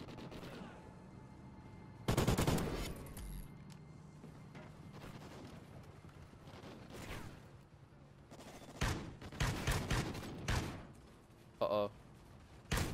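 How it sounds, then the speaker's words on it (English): Light machine gun fire in Call of Duty: Ghosts gun game mode comes in several sharp bursts and single shots, loud and close, with a player talking in between. "What is this gun? It's a LMG of some type."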